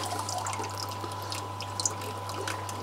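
Tap water runs in a soft, thin dribble into a blackworm culture setup, a faint trickle with light drips over a steady low hum.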